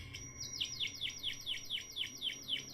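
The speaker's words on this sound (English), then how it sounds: "That just sound like a bird chirping" Repeated bright bird chirps, a steady series of short descending tweets roughly every quarter second, sounding close and clear outside a reputedly haunted house at night, with faint low background rumble.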